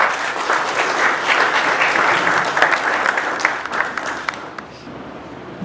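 A conference audience at an international geosciences panel applauds three professors, producing dense, warm clapping that holds steady for several seconds and then thins out toward the end.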